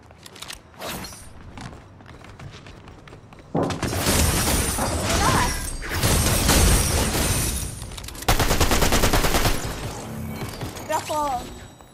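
Bursts of video game gunfire, with dense rapid firing through the middle and a second loud burst later, heard close under the flow of players' talk.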